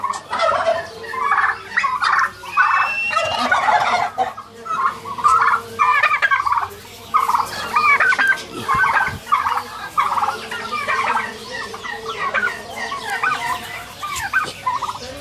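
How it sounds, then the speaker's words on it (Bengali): Male turkeys squabbling at close range, a dense run of loud rattling gobbles and clucks in rapid bursts that overlap one another, with faint talk in the background. "এই দেখেন ওই দুইটা ঝগড়া করতেছে, দুটোই পুরুষগুলোই ঝগড়া করে"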